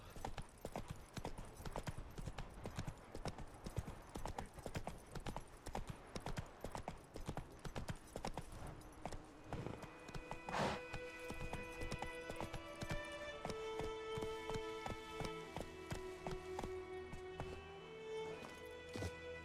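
Hooves of Roach, a horse in the video game Witcher 3, beat in a fast, steady galloping clip-clop, loud and close. Game music swells in underneath later on.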